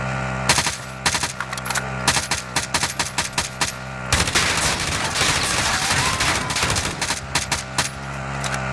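Rapid bursts of gunfire in the video game Warzone, automatic weapons rattling in quick volleys with a sustained stretch of heavy shooting in the middle, fairly loud and close.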